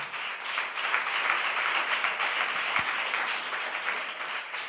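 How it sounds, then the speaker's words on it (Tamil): Congregation applause at a church service, a steady dense patter of many hands clapping together throughout, moderately loud with no speech over it. "நல்ல 2 கைகளை தட்டி."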